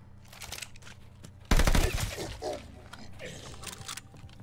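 A Type 99 rifle fires in Call of Duty: Vanguard zombies with a sudden loud burst of shots after a quieter stretch, followed by scattered impacts and clatter in the game's background.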